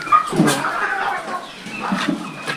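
Poultry birds gathered inside a farm coop, a cluster of clucks and chirpy calls overlapping in bursts close by.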